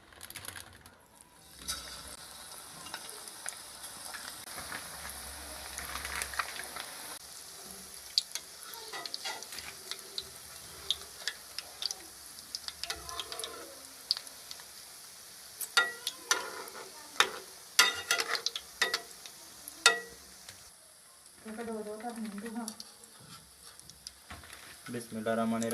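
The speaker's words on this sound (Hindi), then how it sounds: "अब इसमें पकौड़े डाल लेंगे फ्राई करने के लिए।" Egg pakoras fry in hot oil in a kadai with a soft, crackling sizzle and scattered ticks and clatters of utensils, fairly quiet and close, with no clear talk.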